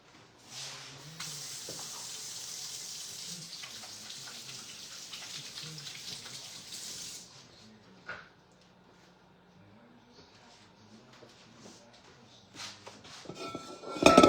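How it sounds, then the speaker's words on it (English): A steady rush of tap water runs into a sink for several seconds while hands are washed, then stops, followed by quieter kitchen clatter and a sharper knock at the end. "I'll wash my hands though"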